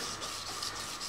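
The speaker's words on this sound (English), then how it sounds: "Let's hit it with the sanding disc, the sanding board" A sanding disc or sanding board rubs over a handmade bracelet in a steady, close, continuous scraping hiss with slight pulses, no voices.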